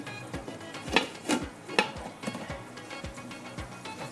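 A lid set onto a pot of simmering sabzi gravy brings a few soft metallic clinks and taps against a faint steady kitchen background, close and fairly quiet.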